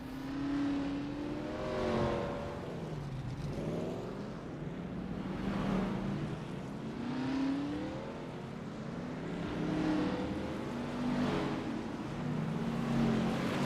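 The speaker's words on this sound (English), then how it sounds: "As the iRacing official pace car gets moving, it is a 27-driver field, and it's time to get rolling here in Kansas." Virtual race cars in the iRacing sim roll away behind the official pace car at Kansas, a 27-car field; steady engine drone with rising and falling pitch sweeps from several cars, continuous and moderately loud.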